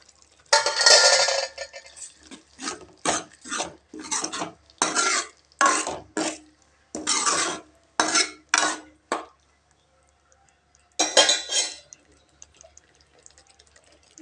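Green peas are stirred into masala in a pan with a run of rhythmic scraping strokes, each short and sharp, then a pause and one more burst of stirring near the end.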